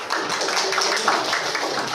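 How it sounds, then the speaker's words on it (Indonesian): A classroom of students claps for a classmate named Hafiz, a steady patter of many hands heard close for a brief moment. "Tepuk tangan untuk Hafiz."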